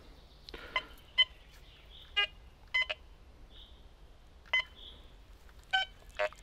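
A Quest X10 IDmaxX metal detector gives short, sharp electronic beeps during a depth test over a target at about 24 cm, several separate tones spaced apart, clear and close with no talk.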